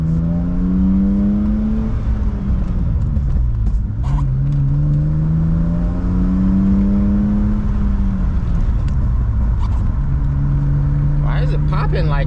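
A BMW E36 engine revs up and down in rising and falling sweeps, loud and close, with short crackling exhaust pops near the end; a voice talks over parts of it.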